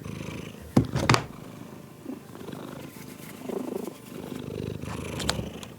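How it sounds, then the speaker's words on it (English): A pet cat named Mel purrs softly and steadily while being patted indoors, a low continuous rumble with a few louder handling bumps and rustles over it; no one speaks. "You can hear the purring."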